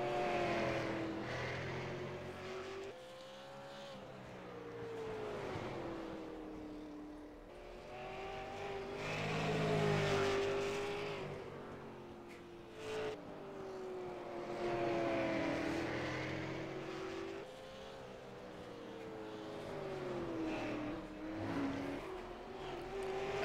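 Stock race cars lapping an oval track during a NASRA 100-lap event, heard as engine drones that rise and fade as the cars pass at a distance, with several overlapping waves of revving, fairly faint.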